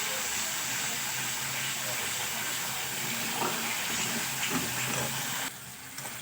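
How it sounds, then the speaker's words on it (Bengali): A small amount of water is added to spices frying in a pan, producing a loud, steady sizzling hiss that drops off abruptly near the end. "দিয়ে দিলাম সামান্য পরিমাণে জল।"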